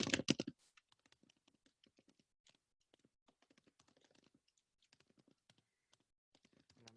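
Fingers type on a computer keyboard close up, a quiet run of quick irregular key clicks after a few louder knocks at the start.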